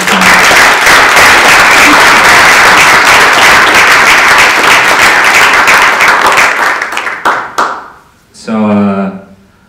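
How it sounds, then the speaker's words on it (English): Audience at a Native hip-hop panel claps in sustained, dense applause for several seconds, then it thins into scattered claps and fades before a voice speaks. "Can we get another round of applause for that?"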